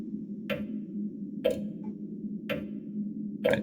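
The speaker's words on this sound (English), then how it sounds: "Let me look at the clock, because the sound is very pervasive." A clock ticks inside a house in the horror game Darkness Within. The ticks come at a slow, even pace of about one per second, four of them, clear against a low steady hum.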